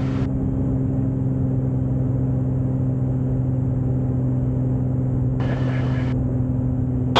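A small airplane engine roars at takeoff power in a steady, loud, unbroken drone that fills the whole stretch.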